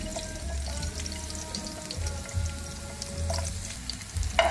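Garlic frying in cooking oil for a home-style Filipino sayote and sardine sauté, a low steady sizzle with a few faint scrapes of stirring and brief clinks near the end, with no voices.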